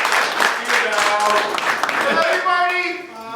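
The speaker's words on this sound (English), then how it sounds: "Round of applause for these guys" An audience at a Houston Dynamo FC presentation breaks into clapping and cheers, dense at first and thinning out over a few seconds, with people speaking over it.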